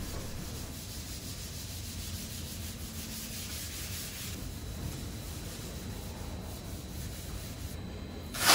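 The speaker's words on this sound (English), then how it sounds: "use the scuffing paste and the grey scuffing pads and basically sand the rest of the panel" A car panel is scuffed by hand with scuffing paste and grey scuffing pads before spray painting, giving a steady, continuous close-up rubbing and sanding hiss with no pauses and no talking.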